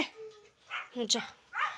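A dog whimpers and gives a couple of short yips amid nearby people talking.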